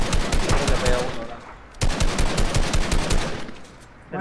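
Rapid automatic gunfire rattles in Fortnite, two dense bursts of rhythmic shots close up with a brief pause between them.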